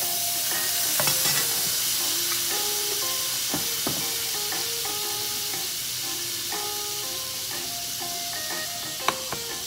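Garlic frying in a pan as the base for an Asian pepper steak, a steady hiss of sizzling oil running throughout with light stirring and scraping, and a faint background tone of shifting pitches underneath.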